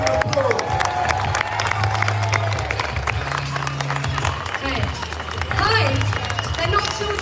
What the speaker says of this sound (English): Give these girls a round of applause.